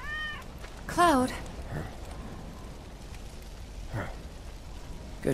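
In the video game Final Fantasy VII Remake, a cat gives a few wavering meows, the loudest one near the start and fainter ones later, over a steady wash of falling rain.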